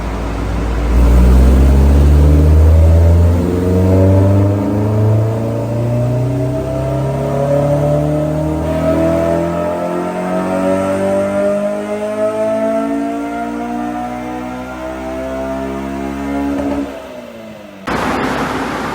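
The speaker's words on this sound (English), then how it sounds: "I hear the car, it's dynoing again." Honda S2000 on a dyno, engine revving in one long pull as the pitch climbs steadily for about seventeen seconds, loud and close, then cutting off abruptly with a brief burst of noise.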